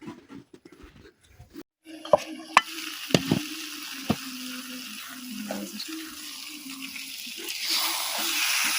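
Onions sizzle in hot oil in a wok while a utensil scrapes and clinks against the pan in irregular stirring strokes, close up.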